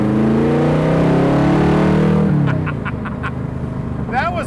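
The exhaust of a Factory Five recreation of a 1964 Shelby Daytona Coupe revs hard and loud up close for about two seconds, then drops back to a lower rumble under brief sharp noises.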